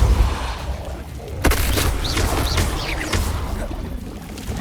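Depulsor spell cast in Hogwarts Legacy, a sudden booming blast followed by whooshing swirls and a lingering rumbling tail, loud and close.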